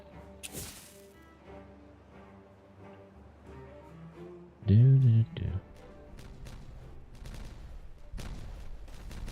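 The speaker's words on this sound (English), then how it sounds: "let's go ahead and explode all this" Explosives detonating in the Timberborn building game, set off at a big power plant: a loud, booming burst of blasts in the middle, with scattered sharper cracks and rumbles trailing after against a low game-music background.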